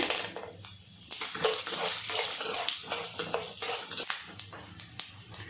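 Mustard seeds, chana dal, urad dal and peanuts fry in hot oil for tamarind rice, making a steady close sizzle with scattered pops and light stirring clinks throughout, and no talking.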